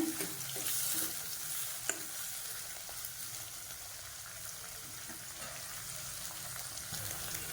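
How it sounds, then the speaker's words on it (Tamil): Onions sauté in a pan for a pea and potato kurma, giving a steady close sizzle with occasional stirring scrapes and no talking. "இது நல்லா வதக்கிக்கலாம் வெங்காயத்தை."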